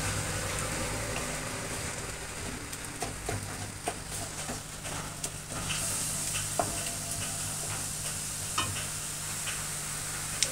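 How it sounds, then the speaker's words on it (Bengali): Spice masala for katla fish curry fries in a pan while being stirred, a continuous low sizzle with scattered scrapes and taps of the spoon, close by and free of any voices. "দিয়ে আরও ভালো করে নাড়াচাড়া করে কষিয়ে নেব"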